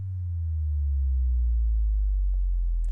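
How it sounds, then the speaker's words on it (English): A deep, sustained low sub-bass kick drop in a 2010s-style pop music production, a loud tonal boom that holds steady and slowly swells across the whole stretch, with a faint click near the end. "so I added this kick drop"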